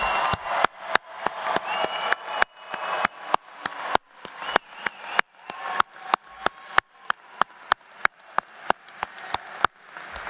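Scattered, sharp claps ring out one after another in an uneven rhythm at a university commencement ceremony, like a sparse audience applauding in a large room.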